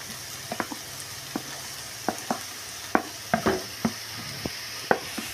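Large onions frying in a pan with curry leaves for a beef cake recipe: a steady soft sizzle with frequent sharp clinks and scrapes of a spoon stirring against the pan, close and fairly quiet.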